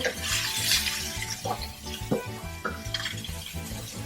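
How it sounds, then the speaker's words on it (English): Mushrooms cooking in a pan over lowered heat for Chicken Scarpariello, with a steady broadband sizzle and occasional utensil scrapes and clinks against the pan, close and moderately loud, no talking. "I'm going to add the mushroom first. We take a little couple minutes to cook them."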